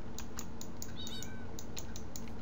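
Cats meow in the Minecraft video game, a couple of short, thin mews over a steady patter of keyboard typing and a low hum.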